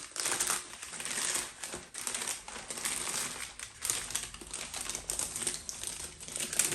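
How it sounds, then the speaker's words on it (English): Plastic packaging crinkles and crumples as a boxed terrestrial orchid plant is unwrapped, with loud, close, continuous rustling and crackling bursts and no voices. "And let us unbox this. Unwrap it and take a look at it."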